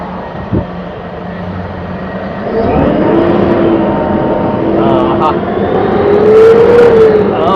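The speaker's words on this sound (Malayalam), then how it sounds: "നമ്മുടെ ആഗ്നി ട്രാവൽസ് സ്ലീപ്പർ ബസ് ഒന്ന് ഓടിച്ചു നോക്കാം" A Volvo Eicher 13.5 m sleeper bus engine idles, then revs and pulls away, its drone rising and steadying as the bus gets moving; a voice speaks over it.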